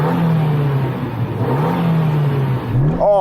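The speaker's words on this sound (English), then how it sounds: "I'm going to rev up my little Jimny" A small Suzuki Jimny off-roader's engine revs steadily and loudly at close range, holding a droning pitch that dips and climbs, then rises sharply at the end; nobody speaks.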